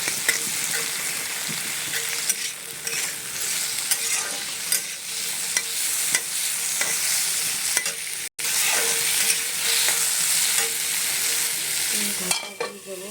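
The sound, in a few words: Malabar spinach (pui shak) frying in hot oil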